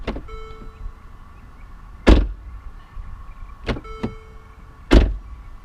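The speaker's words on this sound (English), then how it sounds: "this car has the classic Mercedes door thunk" Mercedes-Benz CLA car doors shut with several solid, heavy thunks spaced a second or two apart, each a sharp low impact in an otherwise quiet space.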